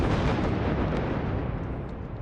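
A 12-inch firework shell explodes in a quarry: a loud, sustained roaring blast with a rumbling wash of broadband noise that slowly decays over a couple of seconds, heard alone.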